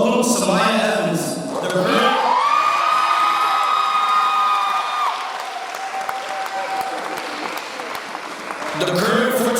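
Audience at a middle school graduation ceremony claps and cheers, with whoops and shouting children. The applause swells, holds, then fades under a held tone, rising again at the end, with a voice speaking over parts of it.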